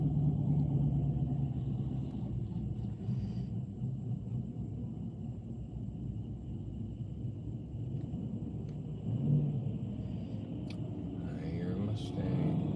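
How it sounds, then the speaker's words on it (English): A diesel truck with a pipe coming out of the hood idles at a spring rod run car show in Pigeon Forge, a steady low rumble with faint background noise and brief distant sounds. "This truck's got diesel with pipe coming out the hood."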